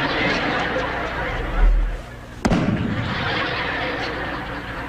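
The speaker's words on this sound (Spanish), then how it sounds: "¿usted sería capaz de disparar un cohete?" A rocket-firing sound effect in a comedic dubbed war scene: a sudden sharp blast followed by a sustained roaring rumble, loud, over a noisy background with voices.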